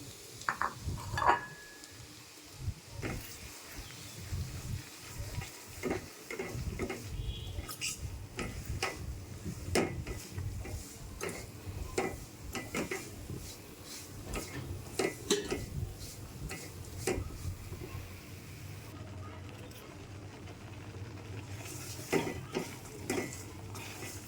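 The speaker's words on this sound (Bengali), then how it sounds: "এখন ডালের গুঁড়িটা এই তেলে ভেজে নিতে হবে।" Chickpea dal flour is fried in oil and ghee in a pan, stirred with a spoon. It makes faint, soft sizzling under repeated light scrapes and clicks that come irregularly, quiet and close.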